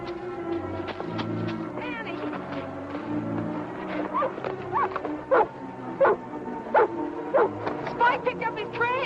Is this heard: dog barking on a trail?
yes